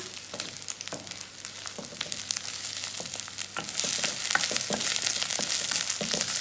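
Instant pasta with masala is stirred in a hot pan, producing a continuous sizzle with repeated scraping strokes that grows slightly louder toward the end, close and with no talking.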